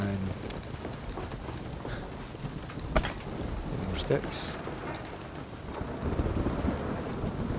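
Steady rain pours throughout a stormy outdoor scene in the video game Nightingale, with a few sharp thunder cracks and rumbles rising out of the downpour; a voice speaks briefly over the weather.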